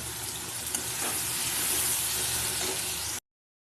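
Okra and potatoes sizzle steadily in hot oil in a pan, a dense continuous crackle with occasional stirring scrapes, close and fairly loud, with no talking.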